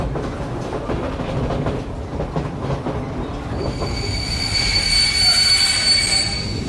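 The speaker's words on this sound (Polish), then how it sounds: "Kiedy pociąg zatrzymał się" Crowded railway wagon of a train carrying prisoners to Auschwitz in 1944, braking to a stop with loud rumbling wheels and a rising high-pitched squeal of brakes and wheels that builds and sustains toward the end.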